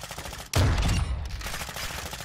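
A sudden close, loud burst of automatic gunfire in the video game Trout 4 Modern Fishery, a dense rattling blast that fades over about a second into a rumbling background.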